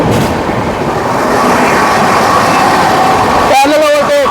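A passenger train runs on rails during a parallel overtake on an Indian route. A steady, loud rolling roar fills the clip and turns harsher near the end, with tonal squeal or horn-like lines. A voice talks over it.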